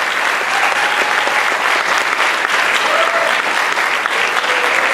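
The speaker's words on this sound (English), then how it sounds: "let's give these gentlemen another round of applause." A large audience applauds the Tuskegee Airmen with loud, dense, sustained clapping that fills the whole stretch with no letup, a faint voice buried underneath.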